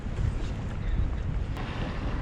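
Strong, steady wind gusting over open water beside beached kayaks in 50 mph-plus winds, a loud continuous roar and buffeting against the microphone, with no voices.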